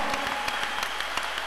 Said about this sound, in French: Est-ce qu'on peut reconnaître la grâce de l'homme de Dieu en l'honorant avec les acclamations, ensemble avec maman?